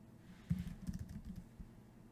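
Soft, quick keystrokes on a computer keyboard as a name is typed, a short burst of faint clicks close to the microphone with no talking.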